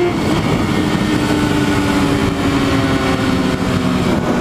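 Yamaha R6 sport motorcycle fitted with a new exhaust, its engine running at a steady, loud, continuous drone close by with no voices.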